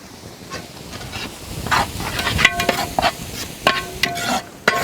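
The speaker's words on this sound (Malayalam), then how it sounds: "ഉപ്പിട്ടാൽ പെട്ടെന്ന് ഉള്ളി വാടി കിട്ടുന്നതാണ്." Onions with salt sauté in a pan during village cooking of goat mutton kulambu. A soft sizzle is broken by close, irregular scraping and clattering strokes as the pan is stirred.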